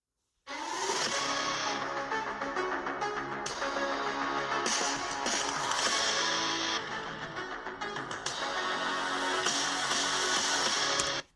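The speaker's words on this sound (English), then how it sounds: "you can see the speaker grills for the two 2-watt speakers and they sound like this" The small built-in 2-watt speakers of a ThinkPad T14 Gen 7 laptop at 50% volume play dense, full-band music continuously, bright and slightly thin, with a brief dip midway before playback resumes and cuts off.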